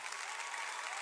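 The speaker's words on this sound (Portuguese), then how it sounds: "Dá uma salva de palmas para esses guerreiros." Church congregation applauding students for reaching the end of their teenage years, a dense uniform wash of many hands clapping at once, fairly soft and continuous, with no talking.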